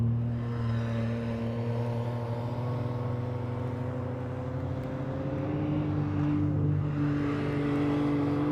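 Beach buggies driving on the sand at Muriwai beach, a steady droning engine note with strong low harmonics that rises slightly in pitch as they pass, continuous and fairly loud with no talk.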